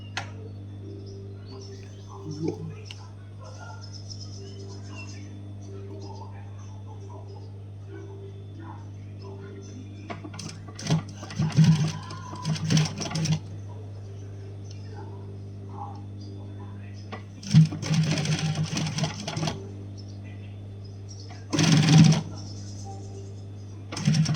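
A sewing machine stitches the lining of a crocheted bag in three short whirring runs of a few seconds each, close by over a steady low hum, with a voice speaking briefly between them.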